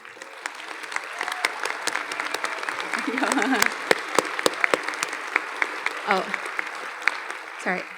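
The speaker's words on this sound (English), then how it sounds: "I totally would love for you all to applaud our amazing companies" Sharp, scattered applause from an audience at the American Indian Foods luncheon of the 2023 IAC Annual Conference, with distinct individual claps through the whole clip and brief voices briefly rising under it.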